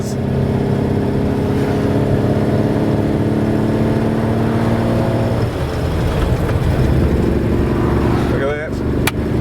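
Bedford TK truck engine labouring up a hill, a loud steady low drone that drops and strains midway, with a voice speaking briefly toward the end.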